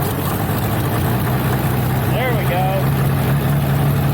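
A Farmall F20 tractor engine with a sticking throttle runs at a steady, loud low idle throughout, with a brief spoken comment over it.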